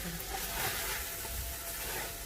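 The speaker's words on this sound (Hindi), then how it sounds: "जब इसे भूनते हुए हम इस तमाम पानी जो आप देख रहे हैं इसको हमने खुश कर देना है" Mutton masala boti fries on a tawa griddle over a high flame, a loud, steady, unbroken sizzle as the water cooks off.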